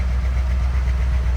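A fuel-injected 1981 Cadillac Eldorado idles with a steady, low, subdued exhaust rumble, even and continuous throughout with no other sounds.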